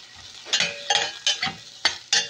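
Galunggong fish frying in a pan, with repeated bursts of sizzling and spattering oil every half second or so, close and fairly loud, no talking.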